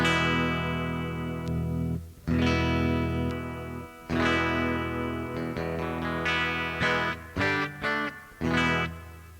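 Harley Benton SG-style electric guitar on its bridge pickup, brighter strummed chords and choppy picked notes ringing with slight grit, loud and close, no voices.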